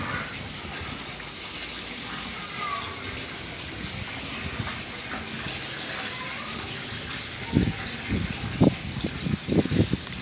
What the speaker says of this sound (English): I heard the water.